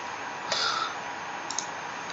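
A few soft clicks of typing on a computer keyboard, one short cluster followed by a brief pair of taps, faint against a steady background hiss.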